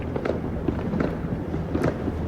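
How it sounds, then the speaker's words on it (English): Illegal fireworks go off at midnight in a neighbourhood, with a dense run of pops and crackling bursts heard from a distance under a steady rumbling background. "These are all illegal fireworks."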